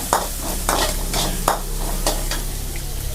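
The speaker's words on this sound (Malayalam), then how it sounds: "വെളിച്ചെണ്ണയിൽ കടുക് താളിക്കുമ്പോൾ" Mustard seeds and fenugreek tempering in hot coconut oil, a steady crackling sizzle punctuated by repeated bright popping bursts and stirring clinks, close and loud.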